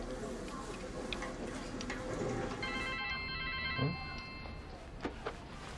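A mobile phone rings with a repeating electronic tone over a busy background of faint ticking and murmuring voices, moderately quiet.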